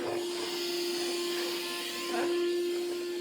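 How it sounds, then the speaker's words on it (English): A vacuum cleaner drones steadily nearby on stairs with a constant hum and airy hiss, briefly shifting as it moves. "using this vacuum on the stairs right now."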